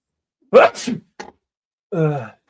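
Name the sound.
sneeze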